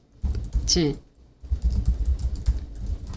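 Fingers tap out a prompt for ChatGPT on a computer keyboard, a quick run of close, clustered keystrokes broken by a short pause, with a brief voice sound near the start.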